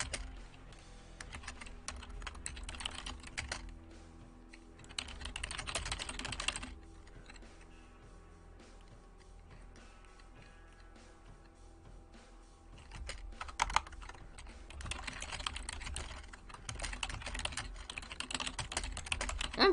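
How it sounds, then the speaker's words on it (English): Steady computer keyboard typing runs in bursts for about twenty seconds, busier at the start and end with a quieter stretch in the middle, and no voices over it. "I'm just typing without saying anything."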